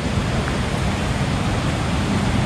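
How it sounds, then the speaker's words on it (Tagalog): Water flowing through a forest: a steady, even rushing and babbling that continues unbroken and fairly close, with no voices. "Pakinggan mo yung lagaslas ng tubig."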